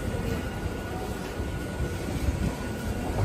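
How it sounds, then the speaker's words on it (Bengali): A Hasnabad local train runs past a station platform, making a steady, loud rumble and rattle of wheels and carriages that continues without a break and has no voices over it. "ট্রেন বাবাজি চলে যাচ্ছি।"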